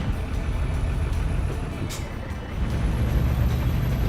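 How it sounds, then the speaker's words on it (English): A Fiat FNM 210 truck in Euro Truck Simulator 2 rumbles steadily as a rough gear change lands with a brief harsh clunk and hiss midway, and the engine roar swells afterward. "Ooh, bad gear change."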